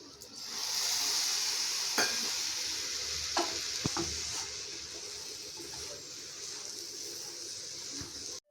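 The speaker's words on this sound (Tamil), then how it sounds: "இப்போ கொஞ்சம் கொஞ்சமாக சேர்த்து நம்ம இதை கலந்து விட்டுக்கலாம்." Semolina and grated carrot laddu mixture being stirred with milk in a pan, a steady close hiss of sizzling under scattered scraping strokes of the spoon, continuous throughout with no talk.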